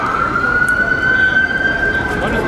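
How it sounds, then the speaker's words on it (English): A police siren sounds loud and close as a sustained, slowly rising tone over rumbling traffic, with voices talking underneath. "why they even got a siren?"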